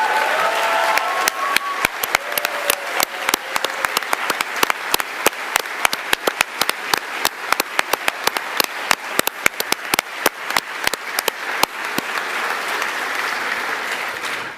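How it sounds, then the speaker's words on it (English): Sustained applause from an audience at the 2021 Northern Territory Australian of the Year Awards ceremony as award nominees stand, dense clapping that thins into scattered individual claps toward the end. "so we can acknowledge you with a huge round of applause"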